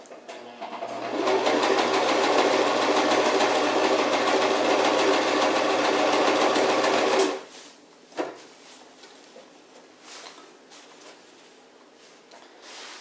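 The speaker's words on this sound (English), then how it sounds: "I'm just using a straight stitch on this." A sewing machine runs a straight stitch on a bivy shelter modification, a steady loud mechanical whir lasting about six seconds before stopping, followed by a brief clunk and quiet handling noises.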